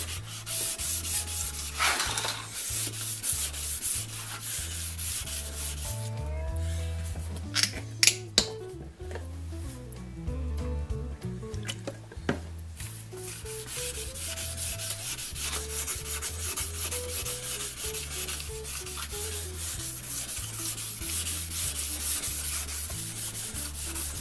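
A Shapleigh Diamond Edge backsaw blade and its back being rubbed with 600 grit wet or dry sandpaper, a steady scratchy rasping in continuous strokes with a low hum beneath and a few brief knocks midway.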